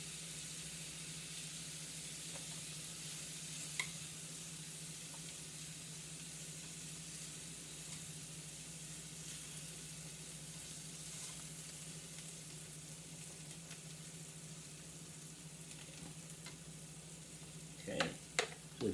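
Shrimp cook in oil in a paella pan, giving a steady soft sizzle throughout with a low constant hum underneath and a few light clinks and scrapes near the end.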